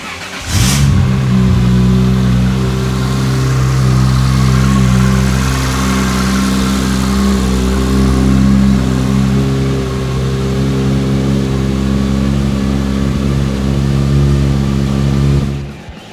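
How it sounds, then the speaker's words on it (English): A car with a Turbosmart fuel pressure regulator being fitted cranks and fires, then settles into a loud, steady, droning idle that holds for about fifteen seconds before cutting off. "Next step is to start our car."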